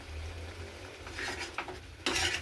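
A spoon scraping and clinking in a pan as bendekai (okra) gravy is stirred on a low flame, soft intermittent scrapes building to a louder rasp near the end over a faint low hum, with no talking.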